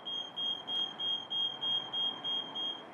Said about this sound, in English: The machine will then go through a beep cycle